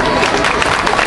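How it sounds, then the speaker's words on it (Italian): Audience applause at a town fitness festival in Palo del Colle, Italy, a loud dense burst of crowd clapping that fills the brief moment evenly. "Ancora un applauso."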